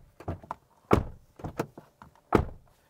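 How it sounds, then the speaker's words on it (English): Door on a 2024 Toyota HiLux GR Sport pickup being opened and shut several times, giving a series of solid, close thunks and latch clicks with short gaps between them, no talk. "up the top there's what the door sounds like"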